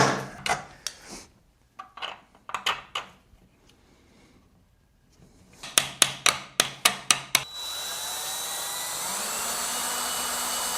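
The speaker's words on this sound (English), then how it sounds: "So I'm just drilling divots for the screws to go into" A string of short, sharp metallic strikes in uneven bursts while drilling divots into a metal sprocket, then a steady whirring drill motor sound takes over near the end.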